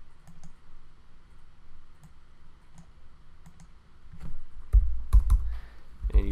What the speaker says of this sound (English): you type out your template right here